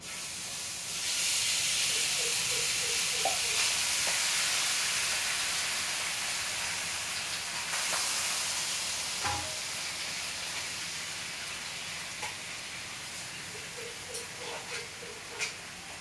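Pure cow milk cream sizzles in a kadai as ghee is made, giving a steady bright hiss throughout with a few faint clinks and small pops.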